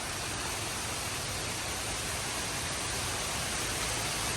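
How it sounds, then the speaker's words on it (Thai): Heavy rain pours down steadily outdoors, a dense, unbroken hiss with no pauses and no voices. "ฝนมันตกแรงนะ"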